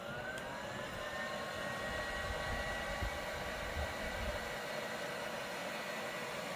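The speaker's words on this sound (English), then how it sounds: "I'm going to use the heat gun again." A heat gun blows hot air steadily while a Dbrand skin is applied to a Nintendo Switch OLED, a continuous even whooshing hiss with a faint whine, constant in level throughout and unaccompanied by talk.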